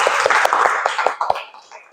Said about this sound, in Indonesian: pintar, tepuk tangan untuk Sri.